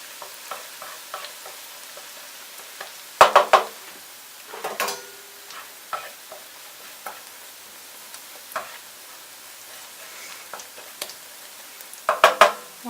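Quiet frying sizzle of eggs and bacon in a pan, with occasional clinks and scrapes of a utensil stirring against the cookware.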